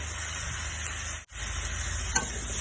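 Two green chilies and bay leaves fry in oil, giving a steady close hiss and sizzle with a brief cut in the middle and one small crackle near the end.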